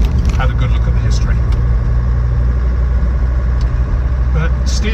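A Land Rover Defender 90 TD5 XS station wagon's diesel engine drones steadily while driving, a constant low rumble with road and cabin noise, with occasional speech over it.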